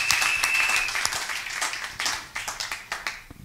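A church congregation claps and applauds for several seconds, a dense burst of hand claps that thins into scattered, uneven claps as it fades.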